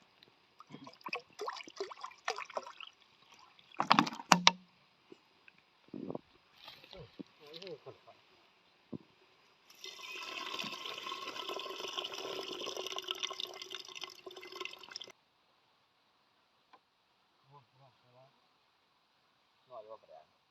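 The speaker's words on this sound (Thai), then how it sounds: "น้ำใส่อีกเนี่ย" Water is poured into a cooking pot at an outdoor forest camp where pork is being grilled, a rushing splash lasting several seconds between scattered clinks, drips and speech.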